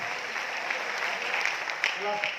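An audience at a motivational business seminar in Aurangabad claps in a steady, moderately loud round of applause, with a voice faintly audible beneath it.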